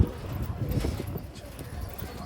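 Giribaz pigeons in a loft coo and rustle close by, while a person talks over them.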